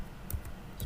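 A few quick, soft keystrokes on a computer keyboard while a host address is typed into Cisco Packet Tracer, heard as two or three faint clicks close together.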